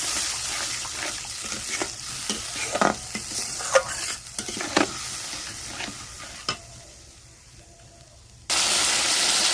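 Jackfruit curry being sautéed in a pan with a splash of water, spatula scrapes and stirs clattering over a steady sizzle, then a louder burst of hissing near the end as the water hits the hot pan.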